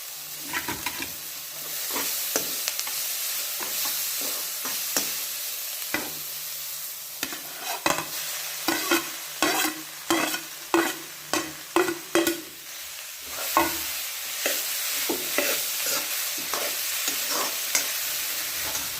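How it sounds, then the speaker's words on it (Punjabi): Grated potatoes are tipped into a hot frying pan for aloo matar tikki filling and stirred, a steady sizzle under repeated scraping and clacking spoon strokes that grow busier in the middle, close up with no talk. "ਹੁਣ ਆਪਾਂ ਉਹਨਾਂ ਨੂੰ ਇਹਦੇ ਵਿੱਚ ਐਡ ਕਰ ਦਵਾਂਗੇ"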